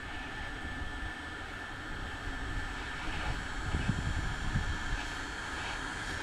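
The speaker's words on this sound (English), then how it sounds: "The wind's picking up here." Wind blowing outdoors buffets the microphone as a steady, loud low rumble with no talking, swelling into stronger gusts around the middle.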